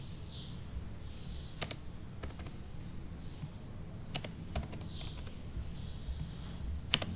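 Keys clack on a computer keyboard in short, quick bursts with pauses between, close but quiet over a faint background hum.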